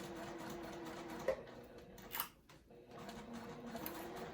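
A sewing machine runs a long basting stitch at length 4, a quiet, rapid mechanical whirr that stutters briefly midway before resuming steadily.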